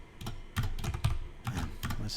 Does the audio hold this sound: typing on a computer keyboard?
yes